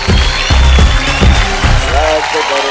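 Studio audience at a Super Dancer television dance show clapping, a dense loud burst of applause with a host's voice talking over it.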